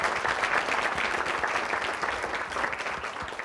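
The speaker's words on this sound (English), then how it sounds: "Why don't you give these people who are still standing a big round of applause" Audience members at a motivational talk give sustained applause, a dense and even roar of many hands clapping that holds steady for several seconds and then tapers slightly, with no speech over it.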